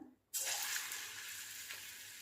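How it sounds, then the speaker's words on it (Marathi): A dab of vegetable and chana dal vada batter drops into hot oil and erupts into a sudden loud sizzle, then keeps crackling and hissing steadily at close range. "या इथे आपण भाज्याचं थोडंसं मिश्रण टाकून पाहणार आहे की तेल गरम झालंय का"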